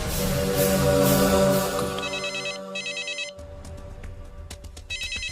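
A phone ringtone plays alone: a repeating electronic melody of bright tones, loud and close, stopping briefly and starting again.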